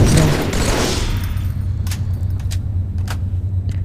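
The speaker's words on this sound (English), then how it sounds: "We gotta make sure he doesn't kill anybody now, because he's freaking firing rifles at us right now." An alien in a freezer fires a rifle in a game audio test: a loud opening burst, then several sharp, separate shots at irregular intervals over a low steady hum.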